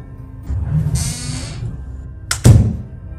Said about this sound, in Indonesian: Suara emak menutup bedek.